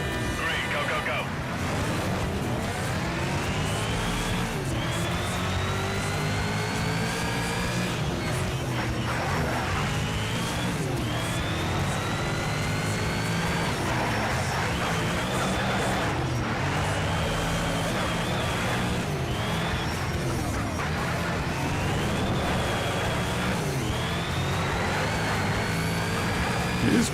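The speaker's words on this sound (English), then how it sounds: "This is probably the loudest car in the game" A loud race car engine in the racing game Need for Speed: Shift revs hard and climbs through the gears again and again, a continuous, close, roaring whine that rises in repeated sweeps.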